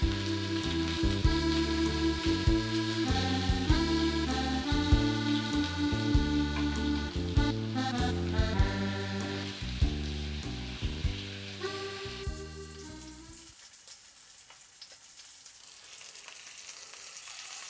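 A thick côte de boeuf steak pressed down and searing in a pan, a steady hissing sizzle under loud background music that drops away near the end, leaving the sizzle alone.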